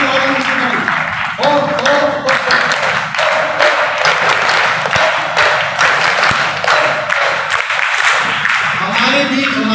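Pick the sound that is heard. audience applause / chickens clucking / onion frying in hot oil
audience applause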